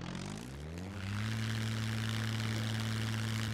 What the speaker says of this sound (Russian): Садитесь обратно на свой самолет.